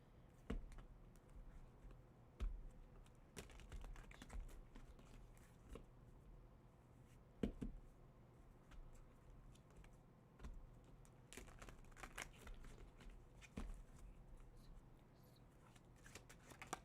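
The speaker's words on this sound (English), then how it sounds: "Let me shuffle these cards around a little bit" Tarot cards shuffled by hand at a table, a soft, continuous riffling and sliding patter with scattered sharper clicks and taps, fairly quiet and close, no voices.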